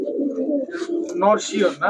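Racing pigeon cooing in a pigeon shop, a low, throaty burbling coo running through the moment, close and clear, with someone speaking briefly over the end.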